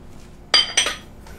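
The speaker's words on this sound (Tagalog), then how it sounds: "Pag pinatong ko yung malaking kutsara, hindi siya kasya" A large spoon set down on a small old spoon rest in a home kitchen, two quick bright clinks of metal against the rest in close succession, close and clear in a quiet room.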